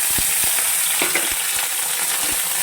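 Loud, close sizzling of eggplant pieces frying in oil, with occasional scraping clicks from stirring.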